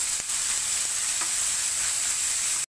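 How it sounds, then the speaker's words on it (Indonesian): Beef bacon fries in a pan (kuali), giving a steady, close, loud sizzle and crackle that runs unbroken throughout with no voices. "masukkan kita punya beef bacon. Goreng sampai dia garing"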